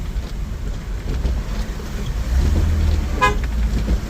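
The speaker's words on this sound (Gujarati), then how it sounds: "ઇકો આવે જો, ઇકો પાણીમાં જો" An Eco van and other vehicles drive through flood water covering a highway at Radhanpur, with a steady low rumble of engines and moving water and a brief horn toot near the end.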